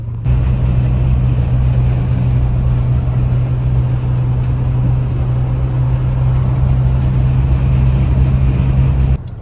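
A Mitsubishi Pajero Mini's small engine drones steadily while driving toward a trail, a constant low hum with road noise and no talking.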